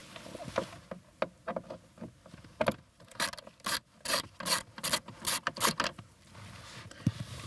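A Torx T20 bit works screws out of a trim panel on a 2001-2007 Volvo V70 while the cabin air filter is being replaced: close, quiet bursts of rapid scraping and ratcheting, with short pauses between them.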